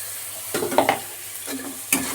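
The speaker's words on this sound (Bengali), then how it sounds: "এইবার দিচ্ছি পেঁয়াজ বাটা পেঁয়াজ আদা রসুন সব পেস্ট করা রয়েছে আমার খানিকটা দিয়ে দিচ্ছি" Onion, ginger and garlic paste hitting hot oil in a pan, giving short bursts of sizzling and stirring scrapes in two or three separate surges over a low background hiss, close and moderately loud.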